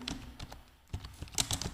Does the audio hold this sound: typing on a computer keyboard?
yes